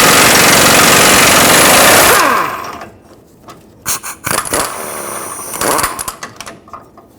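Impact wrench loosening a bolt with a 27mm socket under a 2003-2012 Chevrolet Colorado during lower control arm bushing work: a loud sustained burst of hammering for about two seconds, then quieter clanks and scraping of parts.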